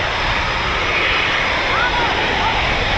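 A Eurofighter Typhoon FGR4 jet roars steadily at an RAF station, a broad continuous engine rumble that fills the whole clip, with faint whistling tones drifting over it.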